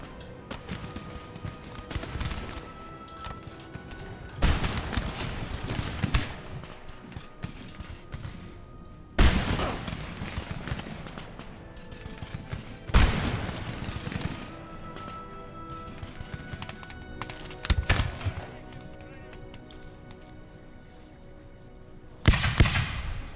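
Musket volleys from the Napoleon: Total War battle game, several loud crackling bursts spaced a few seconds apart over a low background rumble of battle.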